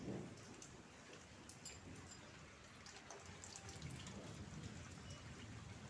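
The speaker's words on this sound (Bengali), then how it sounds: "মামা বাড়িতেও প্রচুর পরিমাণে বৃষ্টি হচ্ছে।" Heavy rain falls steadily at a village home, a dense, continuous wash of patter and splashes with no break across the whole stretch.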